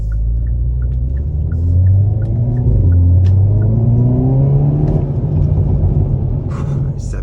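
Engine of a 2022 Hyundai Veloster N while driving out of a roundabout, a loud, deep rumble that climbs in pitch as the car accelerates through the gears, with faint ticking sounds above it.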